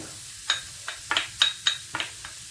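Chopped onion sizzling in a hot frying pan, heard as a series of short crackling hisses that swell with each stir, at an uneven rhythm, close and moderately quiet, with no talking.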